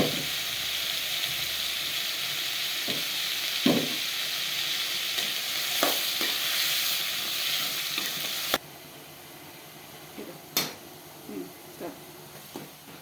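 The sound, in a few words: sautéing tomatoes with salt and turmeric in a pan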